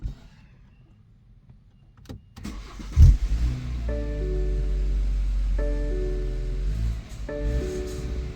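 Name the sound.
BMW car engine starting and idling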